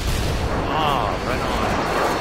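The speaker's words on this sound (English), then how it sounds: "Friendly Harrier inbound." A Harrier jet airstrike in a military shooter game pounds out a steady, loud roll of explosions and gunfire, thick and continuous, with a voice talking over the din.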